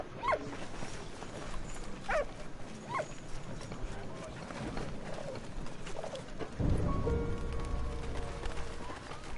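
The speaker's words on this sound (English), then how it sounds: "What do you want, dog? What are you barking at?" A dog barks several times at a distance in the video game Valiant Hearts, with some hoof-like clopping and background noise; a voice speaks over parts of it.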